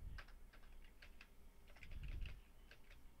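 Keys clatter on a computer keyboard in short irregular bursts of close, crisp clicks, a faint low hum underneath and no talking.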